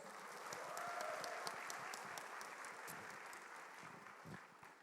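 Audience applause at a stage event, dense steady clapping from a crowd, heard faintly and at a distance, lasting throughout before tapering slightly at the end.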